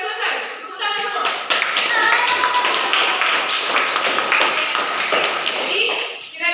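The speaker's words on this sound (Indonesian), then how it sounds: "Tepuk tangan semua." A classroom of students applauds together after a lesson, steady dense clapping that holds for several seconds, close and fairly loud, with a few young voices mixed in.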